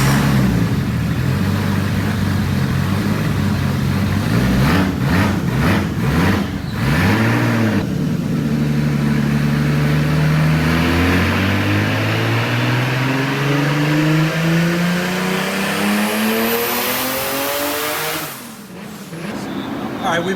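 Turbocharged 3-liter six-cylinder BMW E36 drift car on a dyno, loud blips at first, then a long climbing full-throttle pull rising steadily in pitch before dropping off near the end.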